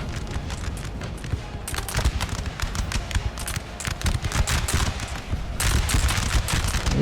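Artillery and massed musket fire in the Napoleon Total War video game during a siege battle: a continuous, crackling barrage of overlapping booms and sharp reports, thick and unbroken throughout, with no voices.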